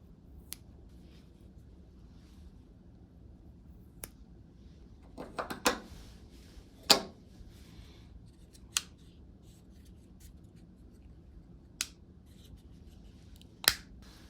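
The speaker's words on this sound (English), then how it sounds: "I'm going to take off these little stickers on these earbuds." Small stickers are peeled off a pair of Skullcandy Dime XT 2 wireless earbuds, giving faint scattered clicks and brief crinkly peels against a quiet background.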